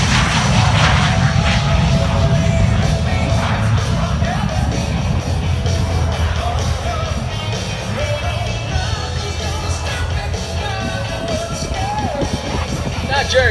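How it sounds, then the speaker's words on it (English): Vampire jet, an early British combat fighter, taking off at an airshow: a continuous loud, roaring engine rush with broadband noise throughout, no clear speech. "his Vampire jet coming about to take off for us right now"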